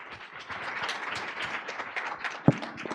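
An audience at a start-up networking night in The Hague gives a round of applause: scattered, moderate clapping with one sharp, close thump near the end.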